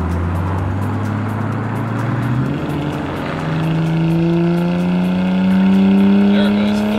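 A Nissan Stagea wagon's Skyline engine revs up through the gears, pitch rising steadily with a brief drop at a shift, loud and droning, with faint crackle in the exhaust.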